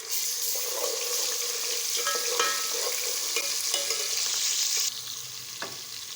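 Ginger garlic paste fries in a pan with browned onions, giving a steady close sizzle with scraping stirs and clinks that run continuously and ease slightly toward the end, with no talking.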